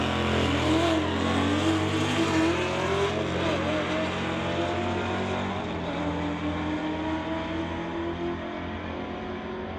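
A 1978 Pontiac Phoenix and a 2017 Camaro run a street-legal drag race, their engines roaring steadily and loudly as they pull away and fade slightly into the distance.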